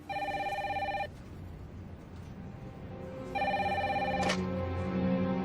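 A telephone rings in two bursts of electronic trilling, a loud warbling ring for about a second, a pause, then another sustained ring, with a brief sharp click near the end and no talking.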